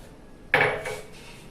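Fried raisins go into a pan of carrot halwa with milk and get a stir: one sharp metallic clink of spoon on pan, then a short scraping rattle that fades quickly, close up with no talking.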